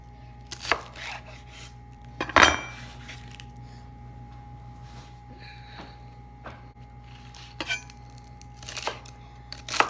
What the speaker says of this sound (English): I'm going to go ahead and get my green onions and chop those up